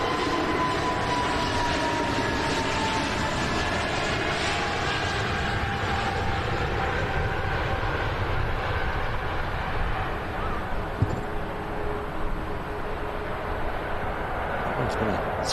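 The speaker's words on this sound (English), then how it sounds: "Beautiful Egypt Air 321 Neo rolling out." Egypt Air A321neo airliner rolling out on a runway after landing, a steady broad engine roar and rumble held throughout with a faint whine, with people talking over it.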